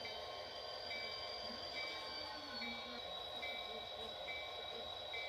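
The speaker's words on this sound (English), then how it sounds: "back the train onto the Anthony Salvage team track" A freight train backs slowly onto a salvage team track, a steady low rumble with thin, drawn-out wheel squeals repeating at a distance, faint throughout.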